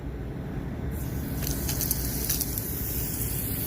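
Cleaner is sprayed onto a dirty air conditioner coil, giving a steady, hissing wash of spray noise that starts about a second in and continues over a low rumbling background.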